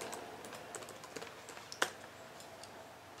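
Keys on a computer keyboard tapped quietly to enter a password at a Linux terminal while installing KDE 4.9 on Ubuntu 12.10; soft, irregular clicks with one sharper keystroke partway through, no talking.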